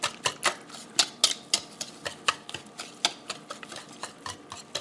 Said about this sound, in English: then whisk it all up together till it's nice and moist